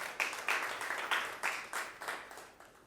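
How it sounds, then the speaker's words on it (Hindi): A class of schoolchildren clapping hands in a steady rhythm, about nine broad bursts in under three seconds, moderately loud and close, with no talk over it. "ताली नहीं बजाएंगे इसके लिए?"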